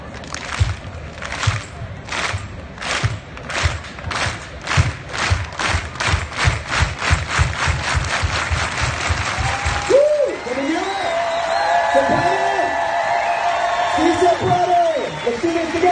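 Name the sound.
rally crowd doing a unity clap, slow then faster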